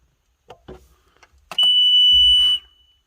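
The monitor alarm on a 568 round baler beeps once in a steady high tone lasting about a second, loud and close, after a few clicks and taps from the cab controls.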